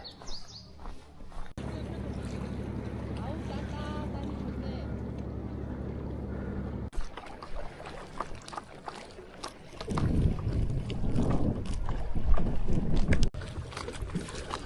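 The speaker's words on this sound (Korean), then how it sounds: "아우 저기 유람선이 온다" A tour boat on Soyang Lake approaches with a steady, droning engine hum, followed by rougher water and wind noise, as people talk and birds chirp faintly.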